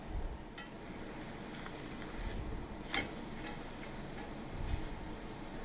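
Steak sears in a cast iron skillet over high heat with a soft, continuous sizzle and occasional faint ticks and clinks, fairly quiet and heard without talk.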